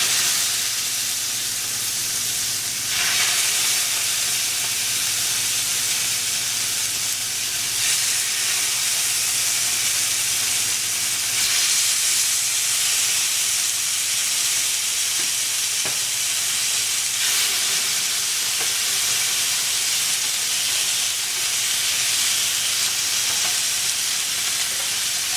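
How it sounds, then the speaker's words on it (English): Chicken kebabs sizzle on a sprayed grill set to about 300, giving off a continuous, even hiss that stays close and steady throughout with no talking. "I'm grilling them until they turn golden brown"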